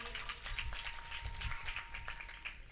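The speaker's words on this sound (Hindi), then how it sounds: "सभी इनको तालियों के साथ सम्मानित करेंगे" An audience applauds donors at a Bhagwat Katha religious gathering in a village in Mathura district, a steady, fairly faint patter of many hands clapping, with a sustained tone running underneath.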